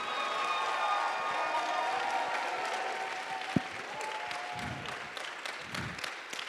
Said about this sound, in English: So we can just have a round of applause for them as well.